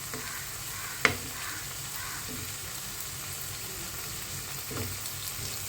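Ghugni with potatoes cooks in a pan with a moderate, even sizzle; one sharp utensil clack rings out early, followed by a few softer stirring sounds and no talking.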